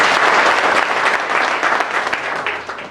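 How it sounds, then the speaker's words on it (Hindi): An audience at a seminar breaks into loud, dense applause that goes on steadily, then starts to fade near the end. "एक बार जोरदार ताली देंगे।"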